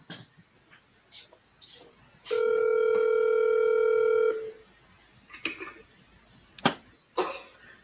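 A single steady telephone tone sounds for about two seconds. Around it come brief clicks, a cough and faint background speech.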